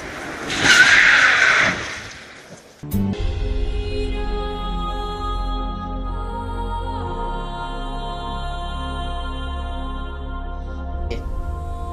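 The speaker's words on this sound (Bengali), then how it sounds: "হঠাৎ বাম দিকের একটা ছোট রাস্তা থেকে একটা ট্যাক্সি এসে ধাক্কা মারে সন্দীপকে" A taxi shooting out of a small side lane and striking a man, rendered as a loud rushing screech followed by a sharp impact and a long ringing, droning tail that slowly fades.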